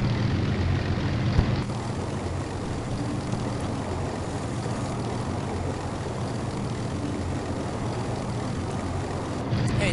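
A propeller airplane in the Island Flight Simulator video game drones with a steady, even engine hum while circling to land, loud and unbroken throughout.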